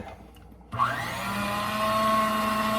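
An electric mixer switches on and runs steadily, loud and close, whirring as it beats cupcake batter with egg, its pitch holding even with no talking over it.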